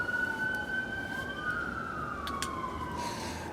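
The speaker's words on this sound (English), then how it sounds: "It's like, no, it's usually just an ambulance." An ambulance siren sounds outside at a distance, a steady wailing tone gliding slowly over a constant background of traffic rumble, heard without talk.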